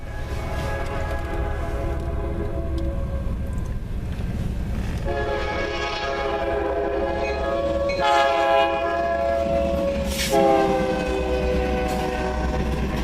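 A CN northbound freight train passes in Ladysmith, sounding its horn in several loud sustained blasts over the steady rumble of the rolling cars nearby.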